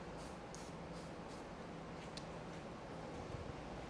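Koch Chemie bug splatter remover hisses from a spray bottle onto a car's surface in a steady, close spray, with a few faint spritz pulses standing out over the continuous hiss.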